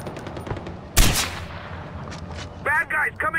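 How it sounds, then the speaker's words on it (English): Gunfire in the video game Far Cry rings out as one sharp, loud shot followed by a fading tail, then brief bursts near the end over a busy game soundscape. "I'm taking fire! Look alive up there!"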